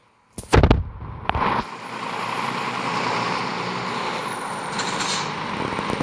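A Scania truck in the game Truckers of Europe 3 starting up with a loud burst and hiss, then settling into a steady droning engine note with a faint high whine, no voices.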